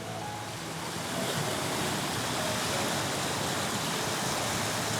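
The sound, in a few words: strong current of flowing flood water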